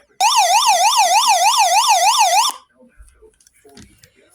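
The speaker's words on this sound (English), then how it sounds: "SOS siren, which I already demonstrated." A handheld emergency alert AM/FM/WX radio sounds its SOS siren, a loud, steady warbling wail rising and falling rapidly for about two seconds before cutting off abruptly, leaving faint room noise.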